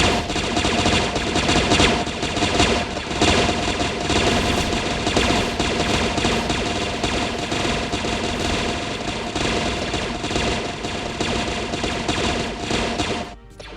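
Star Wars Malevolence dreadnought weapons in Space Engineers fire in a dense, relentless barrage of rapid gunfire and blasts, loud and continuous for over ten seconds before cutting off abruptly, no speech.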